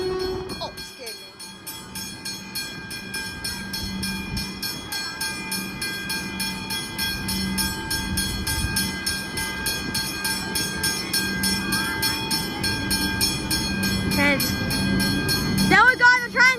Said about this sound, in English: There we go, the train's here now.